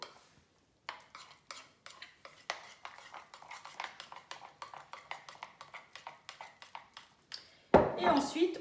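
A spoon stirs cocoa powder and other ingredients into a healthy homemade chocolate spread, with rapid soft scraping taps against the bowl in a steady rhythm, close and quiet, before a louder clatter at the end.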